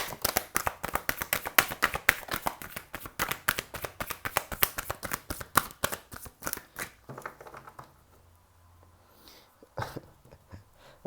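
Tarot cards are shuffled and pulled in a rapid, close run of crisp riffling taps that thins out into a few scattered flicks and a pause, with no talking.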